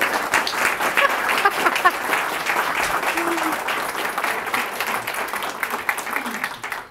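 An audience at an exhibit event on costuming Shakespeare's leading ladies gives steady, dense applause that holds for several seconds before tapering slightly at the end.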